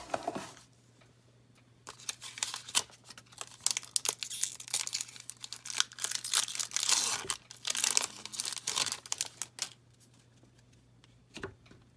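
A Magic the Gathering Rivals of Ixalan booster pack wrapper being torn open, close crinkling and tearing foil in bursts with brief shuffling of cards, under a low steady hum.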